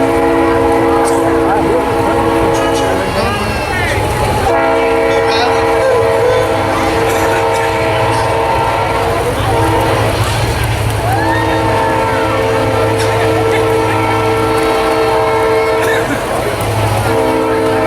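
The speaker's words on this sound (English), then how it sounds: "Pausing for the train." Loud passing train at an outdoor Greer Idol singing contest, with a long blaring horn over the steady rumble and clatter of rail cars for the whole stretch, with voices faintly audible beneath.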